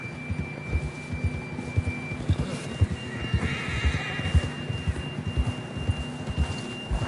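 A horse whinnies in Red Dead Redemption II, with steady hoof clip-clops and a faint tonal hum underneath; no voices, just the animal and its footfalls.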